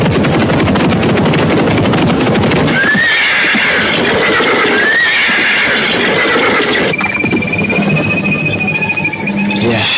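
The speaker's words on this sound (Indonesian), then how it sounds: "Lepaskan saja kuda-kuda kita ini di sini." Horses neigh loudly in a drama setting, two high whinnies over heavy rumbling hoofbeats and noise, followed by a longer shrill whinny near the end, no talk.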